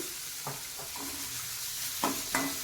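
Crushed garlic and green chillies frying in oil for a Kannada-style chavalekai palya, a steady soft sizzle with a few brief spatula scrapes, close and alone with no talk.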